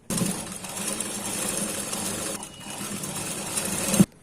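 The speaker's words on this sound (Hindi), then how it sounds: "तो हम जो है पहले सिलाई लगा लेते हैं।" Sewing machine running a 1/4 inch seam through blouse fabric, a steady close whirring hum that dips briefly midway, then resumes and ends with a sharp clunk as it stops.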